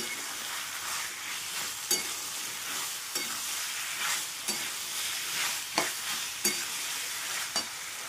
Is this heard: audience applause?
no